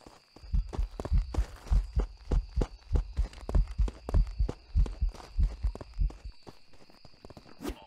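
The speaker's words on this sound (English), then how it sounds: "Oh, I hear it. I hear footsteps." Ghost footsteps in Phasmophobia thud in a steady walking rhythm, about a dozen heavy, booming steps, loud and close, then stopping.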